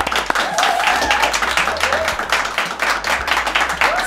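Audience applause rises and falls in dense rippling bursts for about four seconds, with a low hum underneath and a few voices faintly mixed in.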